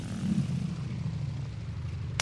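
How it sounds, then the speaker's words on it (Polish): Steady low drone of a Ła-7 fighter plane's piston engine in War Thunder, a continuous throbbing propeller hum held at an even level throughout. "Trochę wychłodzimy ten silnik, żeby zadyszki nam nie dostał, jak już będzie akcja."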